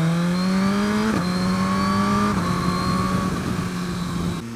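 A Suzuki GSX-R1000R motorcycle runs along a narrow country road, its engine droning loud and close as it holds steady revs, with quick gear changes marked by dips in pitch and a slight fade toward the end.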